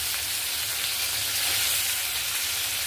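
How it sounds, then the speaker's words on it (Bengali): Kunkuni fish hitting hot oil in a home Bengali kitchen, a dense, steady hiss and crackle of frying, close and continuous with no talking. "আমি এবার মাছগুলো একসঙ্গে সব দিয়ে দেব।"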